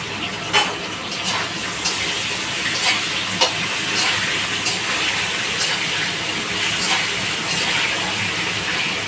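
Vegetables fry in hot oil in a pan, with potol to go in last, for a Bengali fish-head mixed-vegetable curry: a steady close sizzle with occasional stirring scrapes and clinks.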